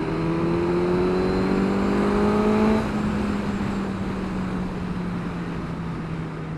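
Suzuki GSX-S1000 motorcycle engine revving under acceleration, a loud steady climbing drone that drops in pitch partway through as it eases off, heard close with wind rush.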